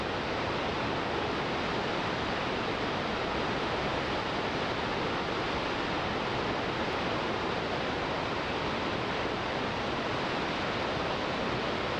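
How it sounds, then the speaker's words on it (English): Steady roar of a waterfall over 140 meters high in British Columbia, Canada, a dense constant rush of falling water heard without talk throughout. "At over 140 meters, the waterfall is the fourth highest in Canada."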